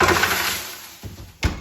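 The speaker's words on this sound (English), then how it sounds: "Throw the ice cubes in." Ice cubes tossed into a hot oven while baking French bread give a few sharp clattering impacts. A brief steady hiss comes first, then two distinct crackling hits near the end, and nobody speaks.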